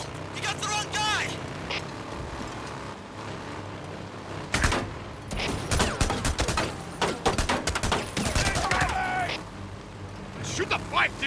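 Gunfire aimed at a motorbike in the video game Days Gone, with sharp bursts of shots and rapid volleys scattered across the clip, interleaved with shouted voices and engine noise.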